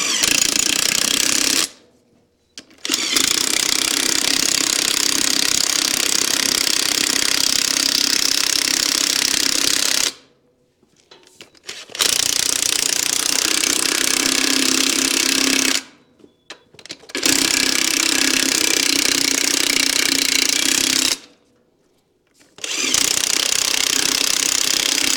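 Loud pneumatic impact gun rattling in long sustained bursts, four runs separated by short pauses, close by with no talking.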